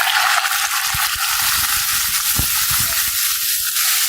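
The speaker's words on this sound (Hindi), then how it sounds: "400 ग्राम बोनलेस चिकन लिया और इसको क्यूब्स की शेप में काट लिया है। ये डाल देंगे।" Boneless chicken cubes are added to golden-brown garlic and fry in a hot pan, giving a loud, steady sizzle with a few soft stirring knocks and no voices.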